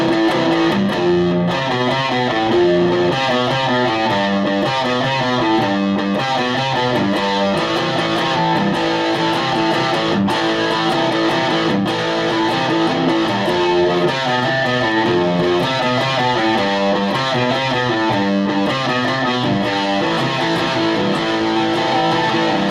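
Distorted electric guitar plays a chorus riff with its notes doubled, a loud, steady, chugging pattern running continuously with no talking.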